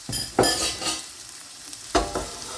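Prawns dropped into a hot pan with sauce, giving two loud sizzling bursts as they land, then a steady crackling fry in between, close and alone with no voices.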